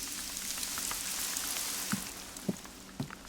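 Heavy rain falls in the hunting video game theHunter: Call of the Wild, a steady dense hiss filling the scene with a few louder close drops or taps near the end, no voices.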